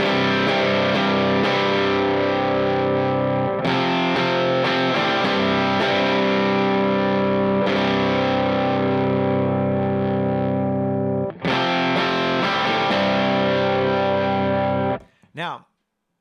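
An electric guitar played through a King of Tone overdrive pedal gives loud, thick distorted chords that sustain between a few fresh strums, close and unaccompanied, before a short burst of scraping noise at the end.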